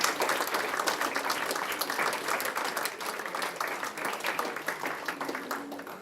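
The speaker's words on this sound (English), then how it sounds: "just a big round of applause for Stu for doing all the accounts." Audience applause for Stu at a Carmarthen schools event, steady dense clapping from a crowd, fairly faint and distant, continuing evenly for several seconds.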